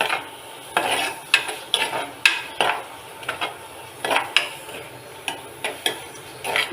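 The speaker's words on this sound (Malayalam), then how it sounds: "തക്കാളി തക്കാളിയും കൂടി ഇട്ട് വഴറ്റുക" Tomatoes being sautéed in a pan for an ivy gourd stir-fry, heard as a brisk, regular rhythm of sharp spatula strokes against the pan, close and fairly loud, with a faint sizzle and no talking.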